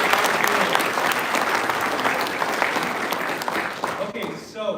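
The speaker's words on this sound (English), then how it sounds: "How about a big round of applause for our" Students from management classes at a college event receive a big round of applause, dense steady clapping from a large crowd filling the room, tapering off near the end.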